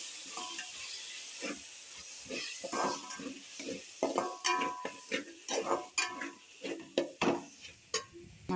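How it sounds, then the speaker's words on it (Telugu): A spoon scrapes and clinks through tomato rice as chilli powder, cumin powder and spices are stirred in, giving repeated close scraping strokes over a faint sizzle with no voices. "ఇప్పుడు ఒకసారి కలుపుకుందాం."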